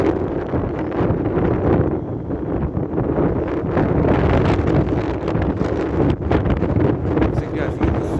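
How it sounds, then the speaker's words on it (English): Strong, steady wind buffets the microphone throughout, a loud continuous rumble and roar outdoors at a railfanning spot during a wind advisory. "it's very windy out here"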